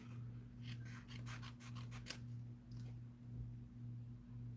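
Scissors cut a paper tag in a quick run of about eight crisp snips close by, followed by a softer rustle, over a low steady electrical hum.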